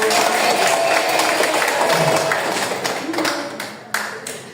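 A class group in a civics presentation claps together, a dense burst of hands that fades gradually toward the end and is punctuated by a couple of sharper claps.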